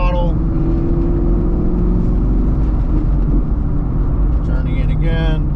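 BMR-equipped sixth-generation Chevrolet Camaro on a road course, its engine droning loudly and steadily as it turns in and eases back onto the throttle, with a voice talking near the end.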